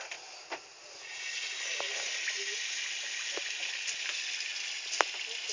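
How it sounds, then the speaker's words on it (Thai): Batter dropped into hot oil, a steady bright sizzle that swells in after a second and holds, with small pops and crackles over it, fairly quiet and close, no talk. "เอาไปทอดให้น้ำมันมันร้อนแล้วเราจะทิ้งแป้งไปเลย"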